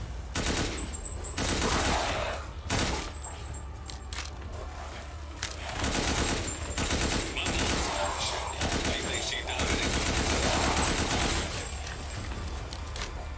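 A handgun fires repeatedly in Resident Evil Village, with sharp, close shots in irregular clusters among other game sounds and someone talking between them.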